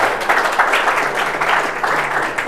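An audience at an indoor presentation breaks into applause, a loud, dense patter of many hands with slight rises and dips, continuing steadily to the end without speech on top.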